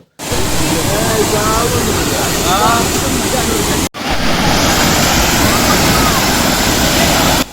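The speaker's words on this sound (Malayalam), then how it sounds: "പ്രൗഢിയോടെ തലയുയർത്തി നിൽക്കുന്ന മലമുകളിൽ നിന്നും ഗാംഭീര്യത്തോടെ ഗർജനത്തോടെ താഴേക്ക് പതിക്കുന്ന വെള്ളച്ചാട്ടത്തിന്റെ നയനാനന്ദകരമായ കാഴ്ച" The three-tiered Soochipara (Sentinel Rock) waterfall in Wayanad produces a loud, unbroken roar of falling water, close and dense, with wind buffeting the microphone and a brief dropout partway through.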